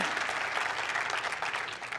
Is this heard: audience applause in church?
yes